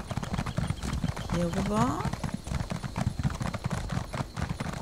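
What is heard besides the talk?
horse hooves while riding in The Elder Scrolls Online video game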